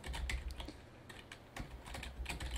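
Fingers type code on a computer keyboard, with quiet, close key clicks arriving in quick bursts and short pauses between them.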